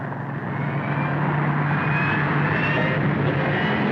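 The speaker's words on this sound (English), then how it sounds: "There's the plane." A propeller airplane drones overhead, a loud, steady engine roar that swells slightly as it passes close above.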